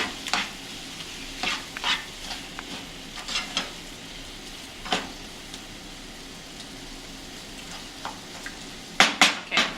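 Yam frying in a pan for Nigerian fried yam, a soft steady sizzle with scattered light scrapes and clinks of a utensil against the pan, several sharper taps near the end, no talking.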